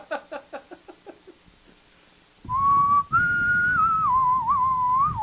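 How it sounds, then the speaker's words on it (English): A person whistles a sustained, wavering tune that starts abruptly after a series of short, regular taps, then carries on loudly and up close. "if you're going to whistle, I'm going to talk"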